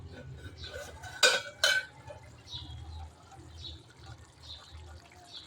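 A metal cooking pot lid lifts off with two sharp clinks close by, after twenty minutes of cooking, followed by a soft bubbling simmer while someone talks.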